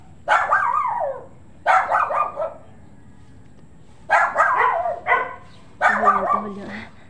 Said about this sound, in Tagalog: Ayun o, yung maingay na doggy. Yung tahol ng doggy.